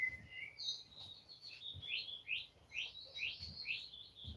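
Small bird chirps repeatedly in quick, high tweets, a lively series of short calls heard fairly close in a quiet setting.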